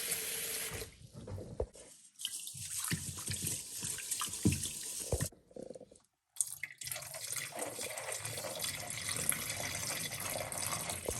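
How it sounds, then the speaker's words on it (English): Tap water runs into a bowl of rinsed basmati rice, a steady splashing fill broken by short pauses and one near-silent gap, close and fairly loud with no talking. "Refill it with water."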